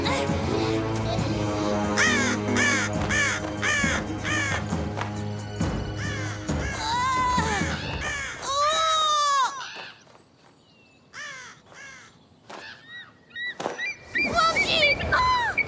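Cartoon birds caw harshly and repeatedly, close and loud, over music and in gaps between voices, with croaking calls that thin out and then return in a cluster.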